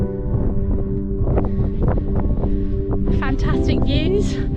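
Wind buffets the microphone on a sunny hilltop walk on High Rigg in the Lake District, a loud, continuous roaring rush with someone talking over it.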